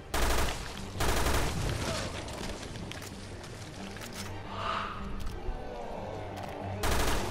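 Game gunfire from Resident Evil Revelations 2 Raid Mode: loud bursts of automatic shots open the clip and return near the end, with a sustained layer of combat noise between them and no speech.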